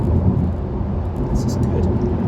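Steady broadband tyre roar inside a Tesla Model 3 cruising at motorway speed, a continuous low rumble with faint hiss filling the cabin evenly throughout.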